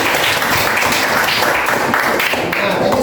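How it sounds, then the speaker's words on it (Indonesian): A classroom of students applauds together, a dense burst of clapping that lasts about three seconds at close range without a break. "sekali lagi tepuk tangan"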